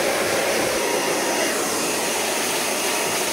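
Steady, loud whooshing roar of a heated brush blowing air while drying and styling a beard, continuous and close with no breaks.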